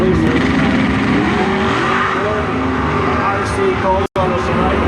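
Two Camaro drag cars, one a 1967 Camaro, launch side by side in a bracket race, a loud sustained roar of engines with tire squeal, a voice faintly present over the din.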